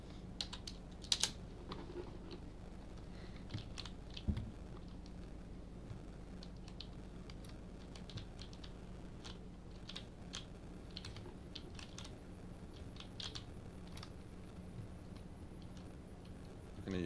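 Faint computer keyboard typing during an online Among Us game session, scattered soft key clicks in irregular bursts over a steady low hum, with no talk.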